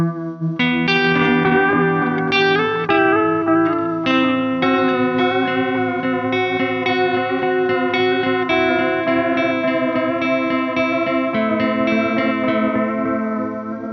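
Chase Bliss Thermae delay pedal set to a square wave modulation shape, processing a sustained electric guitar with wet, chorused, distorted echoes; the pitch wobbles in abrupt steps, loud and continuous throughout.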